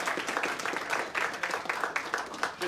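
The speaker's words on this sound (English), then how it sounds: "If you could all join me in giving them the usual applause." An audience at a tax reform discussion claps together in a dense, steady round of applause, moderately loud and sustained throughout.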